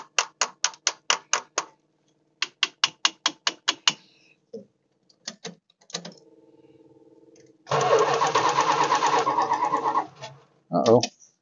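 A 440 Mopar V8 cranks over and over without catching, quick bursts of starter whirring in sets, then a longer grinding crank, with a mechanical clunk or two between attempts.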